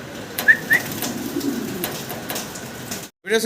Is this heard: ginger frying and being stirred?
no